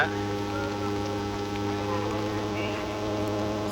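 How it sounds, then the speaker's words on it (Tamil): Heavy rain pours down during a local club cricket match between Sachin CC Salem and Danger Boys Rasipuram. The downpour makes a dense, even hiss that carries on throughout, with a steady low drone beneath it. "மழை பாருங்க கனமாக நல்லாவே விளம்பிட்டு இருக்கு."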